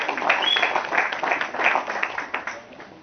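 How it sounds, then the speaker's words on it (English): A small audience claps for a speaker at an indoor talk event in Hull, a brief burst of applause that swells and then gradually thins out. "So can we give a round of applause"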